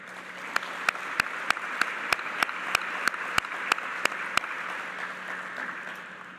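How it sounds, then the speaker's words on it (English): An audience applauds World War II veterans at an 80th-anniversary commemoration of the war's end, with steady, moderately distant clapping and a few sharper close claps standing out at a regular pace. "So let's give them a round of applause."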